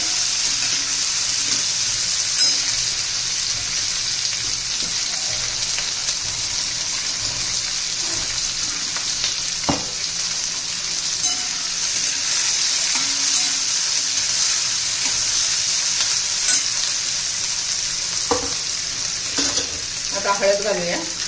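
Tomatoes and carrots with cabbage sizzle steadily in a hot pan for a mixed cabbage vegetable dish, a loud continuous frying hiss with occasional stirring scrapes and no talking.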